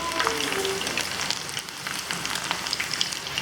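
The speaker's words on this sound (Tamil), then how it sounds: "இது கொஞ்சம் ப்ரௌனாக மாறுற அளவுக்கு ஃப்ரை பண்ணிக்கணும்" Garlic, left in its skin, frying in hot oil for kara boondi, with a steady close crackle and sizzle that carries on without a break and no talking.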